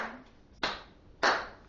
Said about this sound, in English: Clap 5 times.